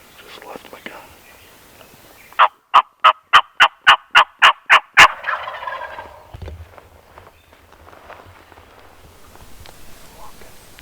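A wild turkey gobbles in a fast burst of about ten sharp, rattling pulses, then fades into quiet outdoor rustling with soft whispered voices, during late-season hunting in Iowa.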